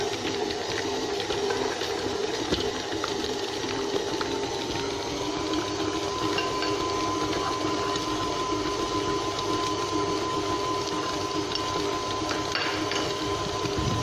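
A stand mixer kneads cocoa dough with a steady, droning motor hum and a rhythmic mechanical churn that continues unbroken throughout.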